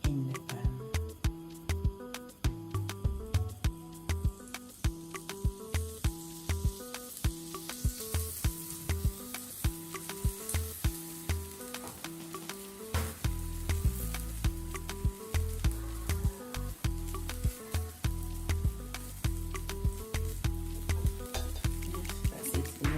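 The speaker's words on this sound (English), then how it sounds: "Pancake in the pan." Pancake batter fries in a pan for fluffy pancakes, giving a continuous close sizzle with rhythmic crackling pops throughout and no voices.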